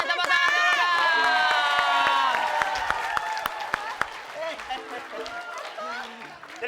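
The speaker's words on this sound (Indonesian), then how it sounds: "Tepuk tangan dulu" A lively crowd claps and cheers, with children's voices and shouting over the applause throughout.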